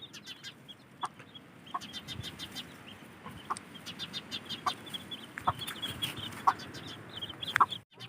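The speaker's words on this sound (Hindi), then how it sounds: "ये मुर्गी और उसके चूजे घूम रहे हैं।" A hen and her chicks cluck softly in short scattered calls over a quiet outdoor village background, with a few sharper chirps near the end.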